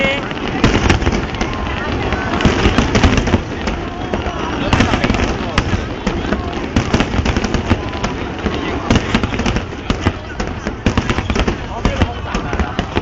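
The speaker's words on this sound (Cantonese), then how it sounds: "我大陸放煙花冇咁勁啊，升啊呢啲" Fireworks going up and bursting at a 2006 National Day display, a loud, dense and unbroken barrage of crackles and booms close by, with people talking over it throughout.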